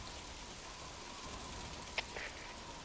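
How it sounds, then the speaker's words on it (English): Rain falls in Metal Gear Solid V: The Phantom Pain, a soft, even hiss of steady downpour with a couple of faint ticks from drops hitting nearby surfaces. "Now it's started to rain."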